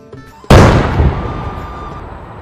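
A single loud firecracker bang during Diwali festivities, a sharp sudden blast that rings out and decays slowly into a long rumbling tail, with no talking.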